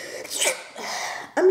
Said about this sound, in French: Éternuer.